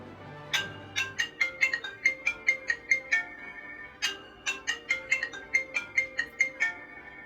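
An iPhone 14 Pro Max plays its ringtone, a bright, plucked marimba-like melody of quick, evenly spaced notes repeating in two phrases, clear and close with no talk.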